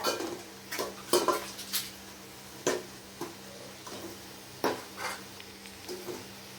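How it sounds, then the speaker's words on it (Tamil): Ground tomato sautéed in a pan for chicken biryani, with repeated spatula scrapes and clacks against the metal at an uneven rhythm over a steady low frying hiss, close and clear. "அரைச்ச தக்காளியை கொட்டுங்க. அதே நல்லா வதக்கிக்கோங்க."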